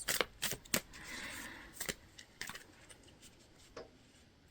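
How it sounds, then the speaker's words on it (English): Tarot cards being shuffled by hand, a run of quick papery riffles and flicks in uneven bursts, close and fairly quiet, with no talking. "As I'm shuffling out your cards"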